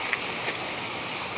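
Water flows through a Parshall flume fountain, a brief, steady, broadband rushing wash heard up close with no voices.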